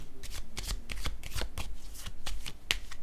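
Tarot cards being shuffled by hand during a Scorpio reading: a continuous run of crisp riffling slaps and flutters, close and fairly loud, with no voices.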